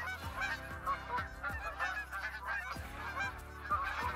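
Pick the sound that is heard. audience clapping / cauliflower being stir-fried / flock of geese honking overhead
flock of geese honking overhead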